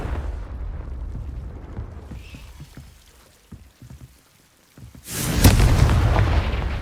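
A Confringo spell blast in Hogwarts Legacy gameplay: a rumbling in-game effect fades to near quiet, then a loud, sudden explosive burst erupts and sustains as a heavy roar to the end.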